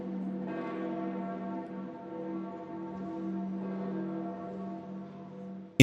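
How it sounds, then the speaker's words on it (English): Church bells ring at a papal funeral, a sustained, resonant bell tone with rich overtones, with a second strike partway through that hangs and decays steadily. "Bells tolled as leaders from more than 150 countries took their places for the papal funeral."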